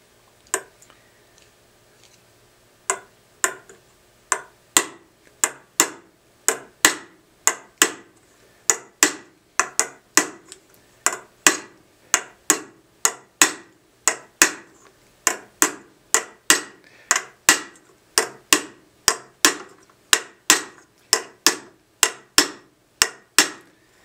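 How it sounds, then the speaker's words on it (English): A hammer strikes a copper bowl held on a metal stake in slow, even blows, dozens of sharp ringing taps repeated at a steady rhythm, close and clear with no talking. "I'm going to carefully tap it down, holding the metal up a little bit here so that I get the metal, the angle here will go down onto the stake"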